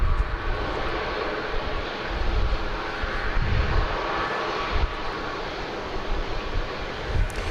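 A Boeing 737 Max 8 takes off at Dallas Love Field, its jet engines producing a broad, continuous roar with a deep rumble that swells and pulses steadily, heard from the airport perimeter without speech.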